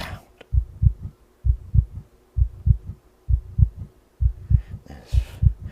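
Muffled, low heartbeat thumping in steady double beats, about seven lub-dub pairs repeating evenly, close and deep with a soft hiss at the end.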